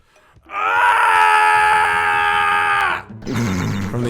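A player lets out a long, loud, sustained scream, held for about two and a half seconds, during a Crash Bandicoot 2 game session, then breaks off into a lower-pitched vocal sound.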